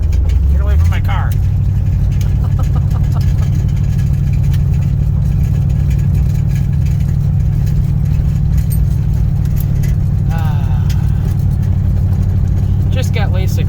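A 1984 Hurst/Olds V8 drones steadily at low revs on a night test drive, a loud, constant engine rumble lasting throughout with only slight changes in pitch.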